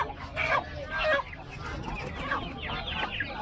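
Chickens at the Pallavaram pet market cluck and squawk steadily and close by for several seconds, with faint voices murmuring in the busy background.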